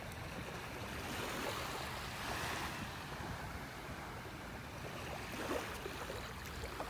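Ocean waves wash onto a beach in North Naples, Florida, in a continuous soft surf roar with wind noise on the microphone. The sound stays fairly faint and steady, with no voices.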